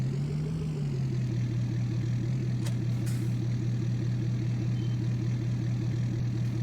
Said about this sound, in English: But we'll get the truck fired on up.